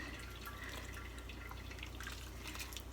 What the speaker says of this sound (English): I'm going to strain this out so I get all of the pieces of vegetable out